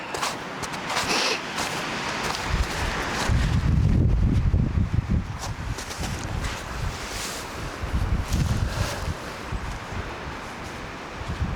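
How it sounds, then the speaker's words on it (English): Wind buffets the microphone in steady gusts at a winter campsite, rising to a louder rumbling surge midway and then easing back to a constant blustery rush. "I do get gusts of wind"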